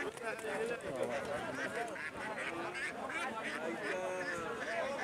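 Ducks, including young ducklings, quack and honk in a crowded duck section of the Badarganj livestock market, with busy overlapping calls under constant crowd chatter and talk.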